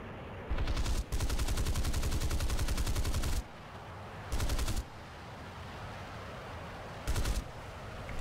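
Aircraft guns fire in a flight combat video game featuring British Tempest Mk II and Venom FB.4 fighters: four rapid machine-gun bursts, one long and three short, rattling loudly between stretches of quieter engine drone.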